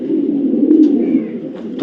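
A male blue-checker racing pigeon with white markings coos close up, a low throaty rolling call that swells and fades over a couple of seconds, with a few faint clicks and no talk.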